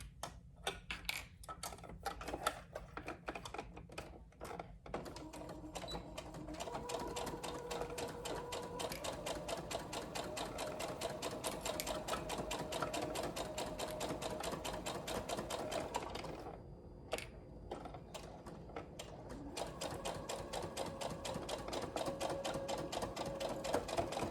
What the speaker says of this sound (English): we're going to sew it up with a 1/4 inch seam allowance again